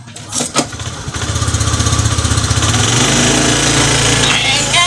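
A motorcycle engine running close and loud, a rapid steady putter that settles into a continuous drone after a few bumps and rattles.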